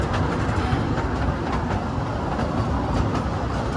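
Haripriya Express train rolling along the rails, a steady continuous rumble of wheels and carriage noise with faint clickety-clack, heard close from on board with no talking.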